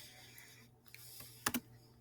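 Typing on a computer keyboard, a few faint scattered key clicks with two sharper taps near the end, quiet and close in an otherwise still room.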